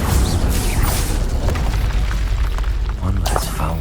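An Incendio fire spell bursts in Hogwarts Legacy during combat, a loud continuous roaring blast with dense low rumble and crackling, under a voice speaking.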